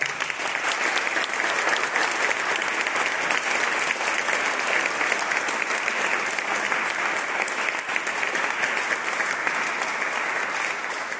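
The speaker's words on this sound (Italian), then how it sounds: "a cui facciamo un grandissimo applauso" A theatre audience gives a long, dense round of applause for the actors of a stage company at a concert-meditation in San Severo. The clapping is loud and steady throughout, with no voices rising above it.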